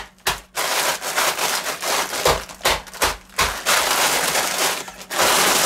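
A meat tenderizer mallet pounds chunks in a bag, giving repeated hard crunching impacts at an irregular rhythm, close and loud, with no talking.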